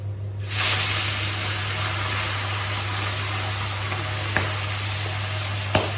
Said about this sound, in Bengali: তো এই কড়াইটায় আমি এই যে ছোটো মাছগুলো ভেজে নিচ্ছি।